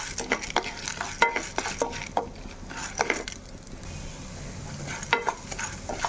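Urad dal dry roasting in a pan, the lentils rattling and scraping under a stirring spoon in quick irregular strokes, close and clear with no voices.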